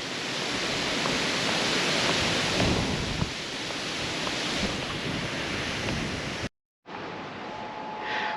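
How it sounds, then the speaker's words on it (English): Strong wind buffeting the microphone on a country walk near Crediton, Devon: a loud, steady roar of broadband rushing noise that drops out abruptly for a moment near the end, then resumes more softly. "As you can see, the wind has got up a bit,"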